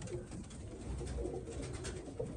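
Iraqi pigeons coo in low, soft, overlapping calls, a steady murmur from several birds close by with no talking.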